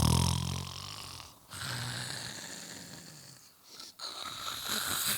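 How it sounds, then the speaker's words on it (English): Several people snore together in a group, long rasping breaths rising and falling in uneven waves with two brief pauses, fairly close and without speech. "let's just all take a moment and snore together"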